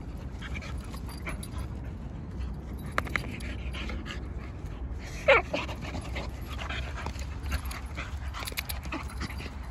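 Two pit bulls wrestling and playing, with close, rapid panting and breathy snorts, a few small whimpers and one sharp louder burst midway, over a low background.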